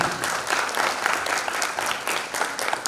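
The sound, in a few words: applause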